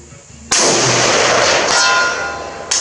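A Galil rifle in 7.62x51mm fires one loud, sharp shot with a long booming decay, and a second bright impact rings out near the end as a round strikes steel; no talk.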